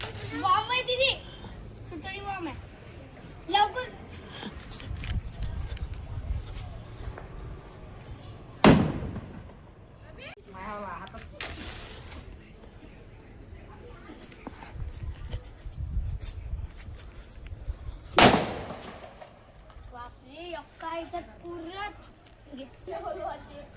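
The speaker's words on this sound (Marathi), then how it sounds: "आता फटाके फोडतो" Firecrackers set off outdoors, with two sharp, loud bangs several seconds apart standing out over steady background noise and distant voices and children talking.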